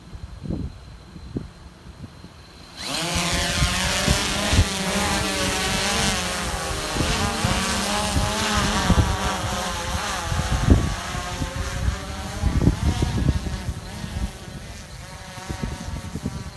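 A SwellPro SplashDrone 3 drone carrying a payload hovers outdoors in wind, its rotors starting a few seconds in with a loud, steady, insect-like buzzing whine that holds close and continuous, with faint wind bumps underneath.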